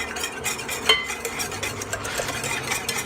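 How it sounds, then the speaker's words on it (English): Flour frosting mixture being whisked in a pot, a continuous soft scraping swish with faint metallic ticks from the whisk against the pot sides, close and steady with no voices. "I'm just whisking all over to make sure none of that has traveled to the sides of the pot"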